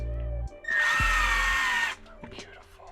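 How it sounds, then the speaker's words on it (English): Power drill boring a pilot hole while installing underglow on a Honda Odyssey: one loud, close, steady whine lasting about a second and a half, with brief talk before and after. "I'm pretty sure you just put your thumb where you thought it was and drill the pilot hole."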